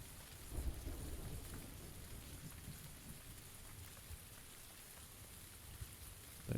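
Rain pouring steadily on the Sanhok map in PUBG, a dense hiss of drops on surfaces with low rumbling thunder underneath, continuous and enveloping throughout.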